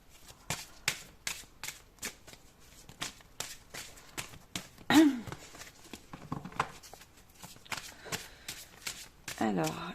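Tarot cards are shuffled and drawn in steady quick flicks and snaps, the riffling repeating close by, with someone speaking French over the cards.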